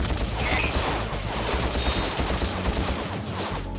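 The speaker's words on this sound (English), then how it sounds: "As you can see, the bullets ricochet." Ratchet & Clank blaster fire, a fast clattering stream of shots with metallic ricochets, steady and busy for several seconds with no talking.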